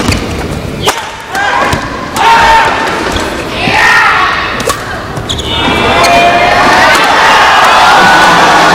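A crowd inside Stadium Badminton Kuala Lumpur Cheras cheers during an Axiata Cup 2012 badminton match, with loud surging roars and whoops that swell and fall around sharp thuds of play.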